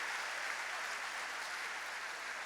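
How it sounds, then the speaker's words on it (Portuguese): Church congregation at a worship service applauds in a steady, dense wash of clapping that stays even and sustained throughout, with no talking. "Vamos aplaudir o Rei"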